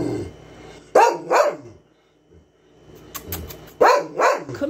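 A puppy barks close by in short bursts: a pair of sharp barks, a quiet pause, then several more yips and barks, with no talking over them.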